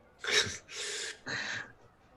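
A person sneezes three times in a quick burst, each sneeze a sharp, close breathy blast separated by brief pauses, with no talk over it.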